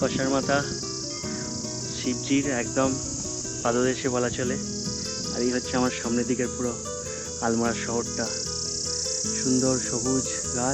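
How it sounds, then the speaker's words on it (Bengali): Crickets chirp in a steady, continuous high trill on a green hillside at the foot of Kasar Devi temple above Almora town, while someone talks over them the whole time. "জানি না পাখির ডাক, ঝিঝি পোকার ডাক, সব ডাক কানে আসছে"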